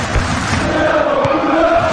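A virtual stadium crowd in PES 2019 on PS2, Liverpool against PSG in the Champions League, gives a steady, loud roar and chant that fills the whole stretch, with a faint thump partway through.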